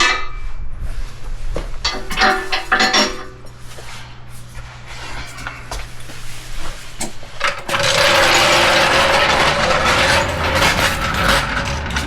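Floor jack pumped by hand to raise a 2024 GMC Sierra HD L5P Duramax truck, giving repeated ratcheting mechanical clacks, then a loud, dense burst of noise in the second half, with little talk.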